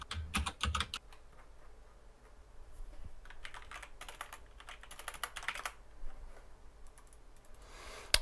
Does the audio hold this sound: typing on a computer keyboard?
yes